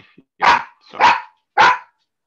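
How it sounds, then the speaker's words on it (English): A dog barks at a lorry passing outside, three loud, evenly spaced barks close by, with a brief murmur of speech at the start. "Oh, that's the dog."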